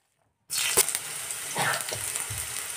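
Onion and other ingredients frying in a pan for matar paneer masala, a steady close sizzle starting abruptly, with a brief utensil clink and stirring scrapes partway through.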